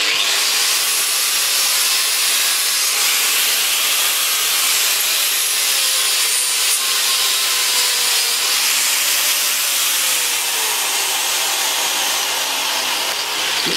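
Continuous loud grinding hiss of an abrasive disc against a mystery metal held in a vise for a spark test, a steady harsh rasp that runs unbroken for the whole stretch with slight shifts in pitch.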